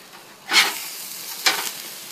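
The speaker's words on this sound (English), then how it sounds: "I'm grilling me another burger" A burger grilling late at night gives two sharp, loud bursts of sizzle about a second apart over a low, steady background hiss.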